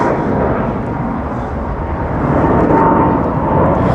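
Aeroplanes near Heathrow Airport give a loud, continuous jet roar that swells slightly toward the end, close and steady throughout, with no voices over it.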